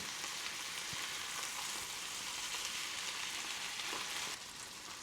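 Chicken sizzles steadily in a hot pan as it caramelizes, a dense crackling hiss with an occasional soft scrape, close and continuous.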